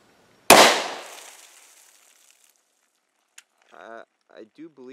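A single loud, close gunshot from a 5.7 pistol firing an all-copper T6 round at a ballistic helmet, with a long decaying tail, then a faint tick and a few short voiced sounds.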